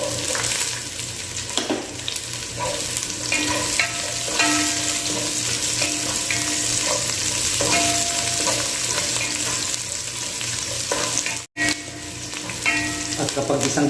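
Ginger, garlic and onion sautéing in a hot pan give a loud, continuous close-up sizzle with occasional utensil scrapes and stirring clatter, cut by a brief dropout near the end.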